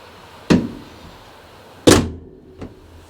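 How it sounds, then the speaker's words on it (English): A van door thuds shut twice in close succession, each a sharp, loud slam with a short decay, followed by a fainter latch-like knock, all nearby with no talk. "Just shut that door."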